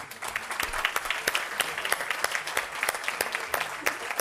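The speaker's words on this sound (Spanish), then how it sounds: "un aplauso para ellos" An event audience applauds the legislators with steady, moderately loud clapping of many hands that runs throughout and stays fairly even.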